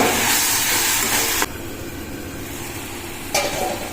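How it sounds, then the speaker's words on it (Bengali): Spiced masala paste in a pan bursts into a loud, close hissing sizzle as water is added, eases into a steadier simmering hiss, then flares again briefly near the end, with no talking. "একটু জল দিয়ে মশলাটাকে কষিয়ে নেব"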